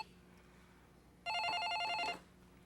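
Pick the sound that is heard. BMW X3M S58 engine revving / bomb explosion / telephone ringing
telephone ringing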